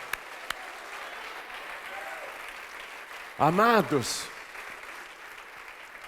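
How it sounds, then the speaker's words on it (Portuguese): A church congregation claps steadily and continuously, a wash of applause from many hands, while a voice calls out loudly over it partway through. "Vamos aplaudir mais o nosso Salvador."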